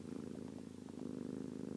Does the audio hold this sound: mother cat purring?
yes